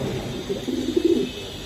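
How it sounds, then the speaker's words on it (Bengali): Pigeons coo softly nearby, a few low throaty murmurs rising and falling over faint background noise. "হুম অনেক সুন্দর কবুতর দুটা"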